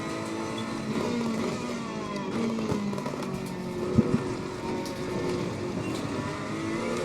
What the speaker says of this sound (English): But this Ferrari, I like it a bit better than the Mercedes